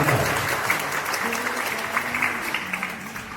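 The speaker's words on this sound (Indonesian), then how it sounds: "Kita tepuk tangan sekali lagi." A church congregation at an Eklesia anniversary service in Piaklain claps together, sustained, fairly close applause with a brief voice faintly underneath.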